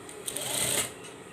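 A sewing machine stitches a double layer of fabric for the back trim of a plastic chair cover, giving a short whirring run of about a second that swells and then stops, close and fairly quiet.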